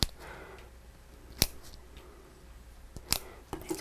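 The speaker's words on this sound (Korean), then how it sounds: "이 아랫부분을 이렇게 잘라주세요" Scissors snip flower stems during church flower arranging, with two crisp, loud cuts about two seconds apart and softer clicks near the end, in a quiet room without talk.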